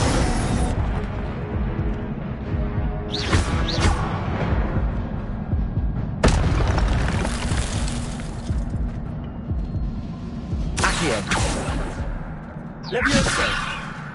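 Spell effects from Hogwarts Legacy, including the Incendio fire spell, burst out in repeated sharp whooshing blasts over a continuous rumbling game background, with several loud bright swells spaced a few seconds apart.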